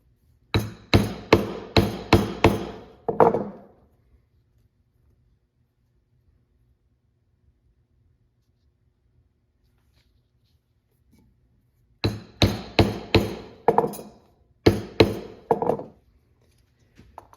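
A diamond stitching chisel is hammered into a leather dog-leash strap in two clusters of sharp, rapid strikes, roughly five or six blows each, separated by a long silent gap.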